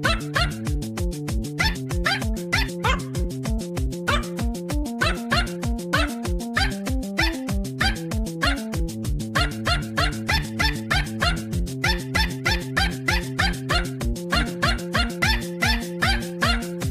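Dogs yip and howl in a rhythmic, sung pattern over a steady pulsing musical beat, loud and continuous throughout.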